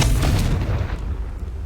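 The Confringo blasting spell detonating in the video game Hogwarts Legacy, a loud close booming explosion with a rumbling low tail that fades over about a second and a half.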